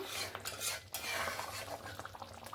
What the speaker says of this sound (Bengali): আবারও একবার নাড়াচাড়া করে নিলাম